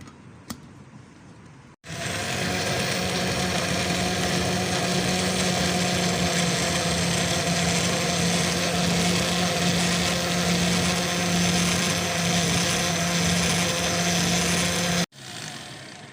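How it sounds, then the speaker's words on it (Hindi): A blender whirs loudly and steadily for about thirteen seconds while blending mango and water into juice, starting abruptly and cutting off just as suddenly, with no talking over it. "अब हम ब्लेंडर में डाल के ब्लेंड करेंगे।"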